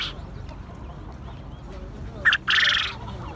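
Chickens at an animal market in Dammam, Saudi Arabia: a rooster's loud crowing squawk bursts out near the end over a bed of scattered clucks and busy market background noise.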